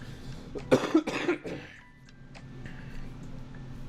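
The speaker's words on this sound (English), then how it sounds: "I have to cough." A short burst of several harsh coughs up close from a person pausing during a card game deckbuilding session, then quiet room tone with faint breathing.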